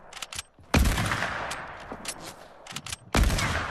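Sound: sniper rifle shots in a video game

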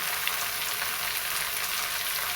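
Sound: math (amaranth) greens added to hot oil, frying

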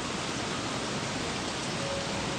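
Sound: rain in the video game Don't Starve

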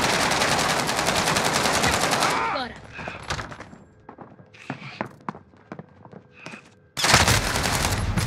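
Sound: gunfire in Warzone video game

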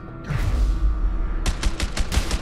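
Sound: gunfire in video game A Way Out

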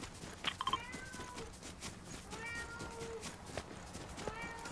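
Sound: cat meowing

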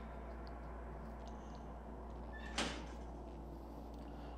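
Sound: enemy opening a locker door in video game Outlast

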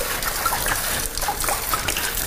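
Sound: box wine pouring into a sink

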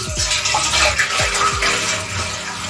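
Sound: water being poured in to make tea

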